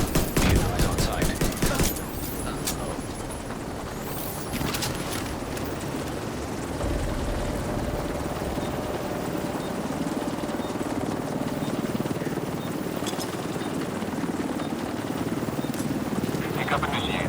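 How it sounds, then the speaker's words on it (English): Helicopter rotor and engine drone steadily in The Division 2 as it arrives at the extraction point. Bursts of gunfire open the scene, then a continuous loud whirring fills the rest, with voices talking over it. "Helo is on site."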